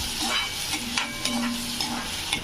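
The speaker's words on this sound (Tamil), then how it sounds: "வெங்காயம் நல்லா சவக்க வதங்கிட்டுங்க." Onions sautéing in hot oil in a pan, a continuous close sizzle with soft periodic stirring scrapes and a faint steady hum underneath, no voices.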